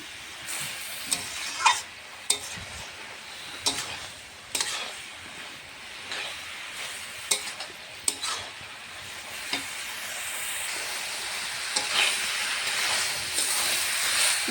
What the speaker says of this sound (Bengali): বাঁধাকপিটা দেখো সুন্দর লাল লাল করে ভেজে নিয়েছি আরও ভাজা হবে